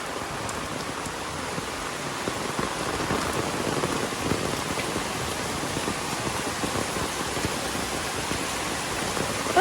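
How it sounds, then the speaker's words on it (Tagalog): Heavy rain pours onto a farm shelter in the countryside, a loud, continuous, even downpour drumming on the surface for nearly ten seconds with no voices. "Oh, lakas ng ulan."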